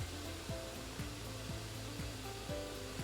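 A Doublestack 8300-S spin rinse dryer in its dry stage whirs with a loud steady broadband rush and a repeating low whoosh about twice a second as its rotation slows.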